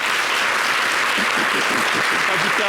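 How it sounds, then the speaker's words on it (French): Applause on a television programme honouring the memory of Fadiga Kramo Lanciné, a thick continuous patter of many hands clapping, loud and sustained, with a voice briefly rising over it near the end. "Merci d'applaudir la mémoire de Fadiga"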